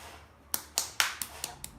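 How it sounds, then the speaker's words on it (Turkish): A child claps hands six times, a quick, slightly uneven burst of sharp close slaps after a short pause, with no talking over them. "Alkış."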